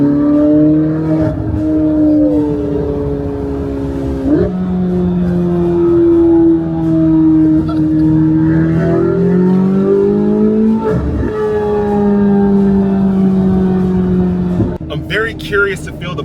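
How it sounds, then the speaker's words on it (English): A straight-piped Chevrolet Corvette C8 Z06 engine idles and revs loudly nearby, with its deep exhaust note rising and falling through several throttle blips; a short burst of talk comes at the very end. "But first, let's hear this lovely sound of the C8"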